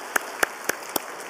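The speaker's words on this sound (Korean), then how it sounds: "우리 제2권사 위해서 뜨거운 박수로 감사하십시다" Four sharp, evenly spaced claps ring out in a church, a brief burst of clapping from the congregation, loud and close.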